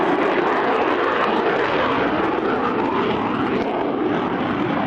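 A military jet flies a low pass in dirty configuration at the 1998 Woodford Airshow, a loud, continuous broadband roar that stays close and steady throughout.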